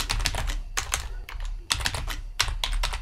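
Fingers type a form question on a computer keyboard, a close run of quick clicky keystrokes in bursts with short pauses between.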